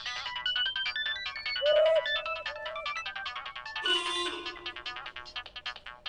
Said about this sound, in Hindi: डीजीपी सर का फोन।